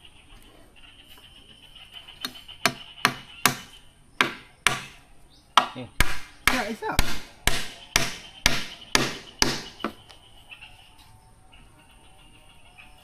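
A hammer pounds wood on a hanging tree house being built with posts outdoors: a steady run of about fourteen loud, sharp, close strikes in quick succession, with one brief spoken word at the start.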